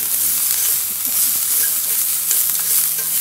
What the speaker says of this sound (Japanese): 炒める。